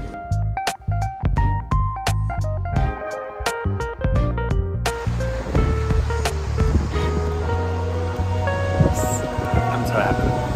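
Ocean waves breaking on a jungle-fringed beach in Costa Rica, a steady broad wash of surf under music with a plucked melody, the sea noise swelling louder after a few seconds.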